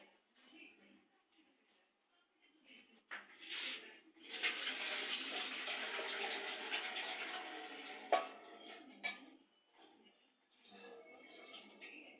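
Water pours steadily into rice and softened peas in a cooking pot for matar pulao, a continuous splashing rush lasting several seconds, close and moderately loud, with quieter kitchen handling sounds before and after.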